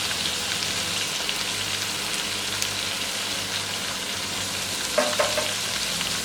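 Boneless chicken frying with turmeric and cumin powder for a restaurant-style karahi, a steady, moderate sizzle with occasional stirring clinks toward the end.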